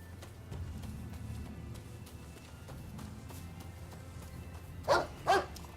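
A large dog in the samurai action game Rise of the Ronin gives two quick, loud barks close together near the end, after a stretch of low in-game ambience.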